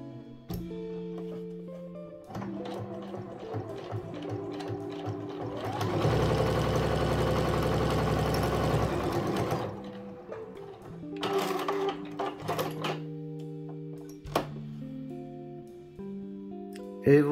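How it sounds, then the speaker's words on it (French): A Juki HZL-G210 electronic sewing machine stitches in loud, steady mechanical bursts, with a sustained run in the middle flanked by shorter start-stop passages; no talking is heard. "Et je suis prêt à coudre."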